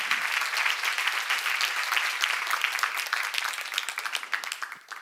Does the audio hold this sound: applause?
yes